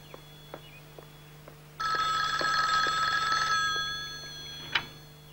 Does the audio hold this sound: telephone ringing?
yes